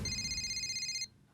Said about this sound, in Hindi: बागा अंकल का फोन है।